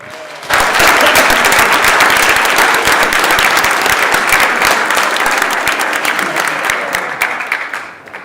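Senators in a state senate chamber break into loud, sustained applause for a colleague during a floor session; the clapping starts abruptly, holds steady, then thins out and fades at the end.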